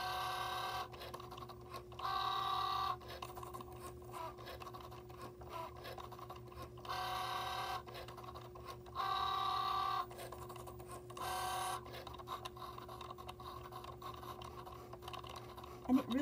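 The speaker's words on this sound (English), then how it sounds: "It's making the slits right there on the corners for your insert, and it's just going to now cut out snowflakes" An electronic cutting machine cuts paper snowflakes with repeated bursts of mechanical whirring and buzzing, each separated by short pauses, and a person talks softly between the passes.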